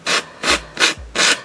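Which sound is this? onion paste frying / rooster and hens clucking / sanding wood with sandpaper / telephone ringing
sanding wood with sandpaper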